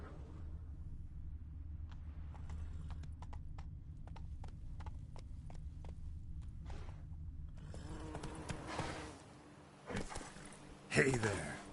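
Hooves of Roach, the horse in The Witcher 3, clip-clop at a steady trot over a low rumbling game ambience, then the rhythm gives way to creaks and louder shuffling movement near the end.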